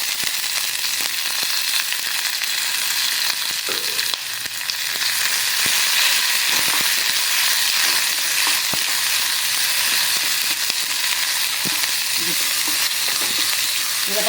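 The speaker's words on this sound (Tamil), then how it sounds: "நல்லா கோல்டன் ப்ரௌன் ஆகிற வரைக்கும் இந்த வெங்காயத்தை நல்லா வதக்கிட்டு" Small onions sauté in hot oil with curry leaves and dried chillies, giving a loud, steady, close sizzle with scattered crackles and occasional stirring scrapes throughout.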